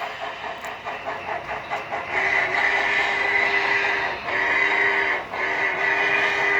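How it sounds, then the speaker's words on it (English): A model train rumbles past on a layout with a steady rolling roar, faint rhythmic clicking from the wheels, and a sustained hiss, fairly close and continuous. "And here comes our train again."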